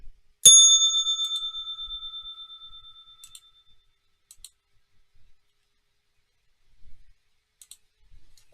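Stock market opening bell: a single bright metallic ring struck once and ringing out in a long decaying shimmer, followed by scattered faint clicks in near silence.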